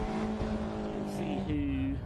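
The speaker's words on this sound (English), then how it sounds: "car number 50 comes into the pits from fourth place, the Unlimited Performance Consulting, red and white Caterham" A red and white Caterham race car, number 50, enters the pits at Anglesey with a steady engine drone that rises in pitch toward the end, heard at moderate distance while a commentator talks.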